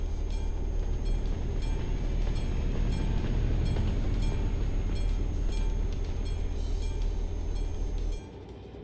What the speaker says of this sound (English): Hear the train?